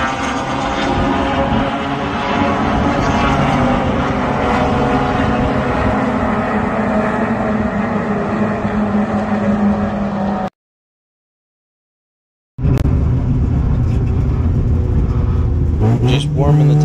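A Mazda RX-7 IT7 race car at Watkins Glen during an SCCA event, its rotary engine droning loud and steady for about ten seconds, a sudden cut to silence, then the engine roaring back.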